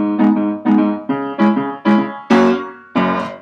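The introduction of a backing track for an improvisation piece, seven bright chord stabs in a steady rhythm, each struck loudly and left to decay, with no voices.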